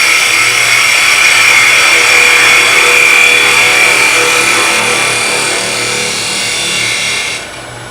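A skew chisel makes an end cut on spinning wood on a lathe, producing a loud continuous hissing scrape that holds steady and then stops abruptly near the end, with no speech.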